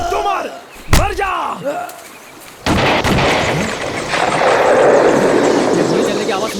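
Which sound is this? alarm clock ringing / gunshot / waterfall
gunshot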